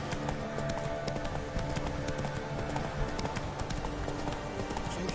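Roach, a horse in The Witcher 3: Wild Hunt on PS4, gallops with a steady, rapid clip-clop of hooves that holds close and loud for the whole stretch, over continuous game ambience.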